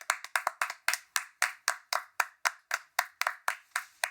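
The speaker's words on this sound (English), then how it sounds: "Extra long clap for the promotion of the year." One person claps steadily and closely, about twenty sharp, evenly spaced handclaps over a few seconds, crisp and dry with no crowd or voices.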